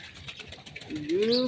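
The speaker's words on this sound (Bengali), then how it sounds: "কি পাখিটা" A pigeon-like bird gives a short rising coo near the end, close by, after a moment of soft background noise and faint voices at a home where ducks are bathing.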